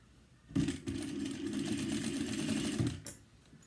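A sewing machine bastes a zipper to a fabric edge for a zippered crossbody bag, running in one steady close-up whirring burst of about two and a half seconds that starts and stops abruptly.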